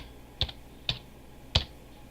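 Three separate keystrokes on a computer keyboard while a disk-listing command is entered during a clean install of Windows 10, each a crisp, close click with pauses between them against a quiet background.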